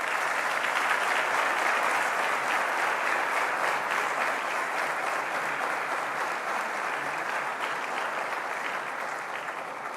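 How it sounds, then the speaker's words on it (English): A live audience at a Lagos gubernatorial debate in Nigeria gives sustained, dense applause for the full ten seconds, fairly close and even, tapering only slightly toward the end. "Kindly give him a warm round of applause."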